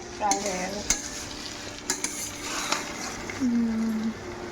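Thick chowmein stirred and fried in a home kitchen pan, soft sizzling with utensil scrapes and clinks, while a voice talks over it intermittently.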